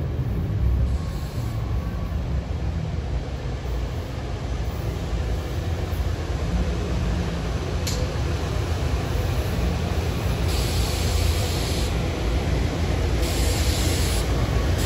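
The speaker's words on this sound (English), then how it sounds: "Powered by these tired GE Silverliner 4s." A worn GE Silverliner IV commuter train runs at Ardmore with a continuous low rumble. Several sharp bursts of hissing air break in over the steady drone.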